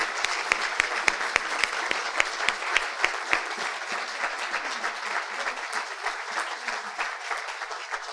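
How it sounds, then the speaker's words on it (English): An audience at a community swearing-in ceremony applauds the police and fire department, with sharp, distinct claps at first that blend into a steady, moderately loud wash of clapping. "you heard a little bit of the applause"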